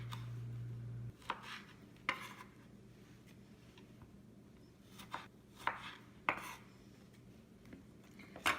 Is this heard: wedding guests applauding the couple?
no